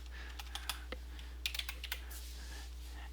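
Computer keyboard typing, a scattered run of light, quick key clicks against a low steady hum, faint and close with brief pauses between bursts.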